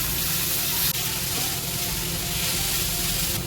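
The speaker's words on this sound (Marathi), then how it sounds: "त्यामध्ये पालक टाकलाय. पालक परतून घेऊया." Chopped spinach sautéing with sliced onion in a hot pan, a steady loud sizzle and frying hiss that runs unbroken throughout, with no talking.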